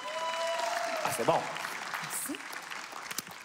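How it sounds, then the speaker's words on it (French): Audience applause at a French-language comedy gala fills the room as a steady wash of clapping beneath people talking, with a brief tonal flourish partway through. "Applaudissez-la"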